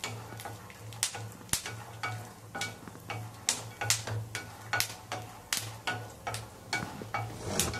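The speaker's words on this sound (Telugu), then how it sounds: "పల్లీలు ఫ్రై చేసుకోవాలి" Peanuts frying in a pan, stirred through a steady series of sharp clicks and taps over a soft sizzle and a constant low hum, with no talking.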